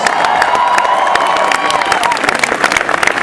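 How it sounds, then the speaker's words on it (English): A crowd at a Barack Obama rally at Pennsylvania State University applauds steadily, with dense clapping and a few scattered cheers and shouts rising toward the end. "Please give him a big round of applause."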